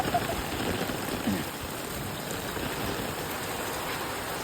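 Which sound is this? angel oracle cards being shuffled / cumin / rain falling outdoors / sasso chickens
rain falling outdoors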